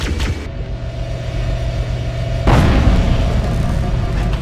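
Pulse generator exploding in the video game Halo: Combat Evolved, a single loud boom bursting in at mid-clip and trailing into a heavy rumble over a low ambient drone.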